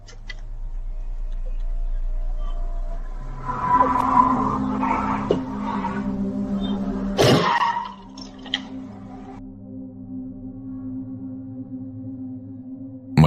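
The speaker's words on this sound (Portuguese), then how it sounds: "O motorista faz uma curva brusca para fugir, mas durante a manobra o veículo bate em outro carro que passava" On a quiet residential street, a car swerves sharply with loud tire screeching and skidding, then hits another passing car in one hard crash, followed by a lower idling engine hum.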